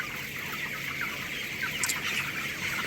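Broiler chickens, 19 days old, cluck softly in a steady chorus over a constant background hum, with no one talking.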